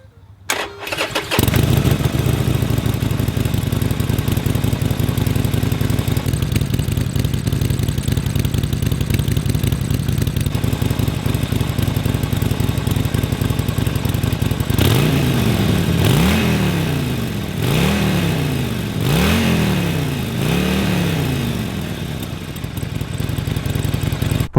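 A stock-exhaust 2019 Harley-Davidson Sportster XL Forty Eight cranks and fires into a loud, steady V-twin idle. Later it gives several sharp, rising throttle blips, one after another.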